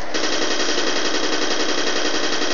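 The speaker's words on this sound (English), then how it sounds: "Bullets are pretty accurate as well." Sustained rapid automatic gunfire in the shooter game F.E.A.R., a continuous rattling burst, loud and up front with no pauses.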